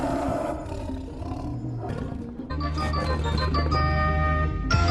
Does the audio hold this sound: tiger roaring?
yes